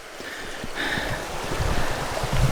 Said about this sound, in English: this creek that I need to cross is a little bit higher than normal